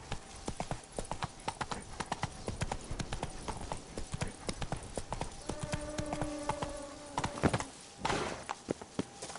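Hooves of Roach, Geralt's horse in The Witcher 3: Blood and Wine, clip-clop in a steady walking rhythm, loud and close, with game music tones and a brief noisy burst late on.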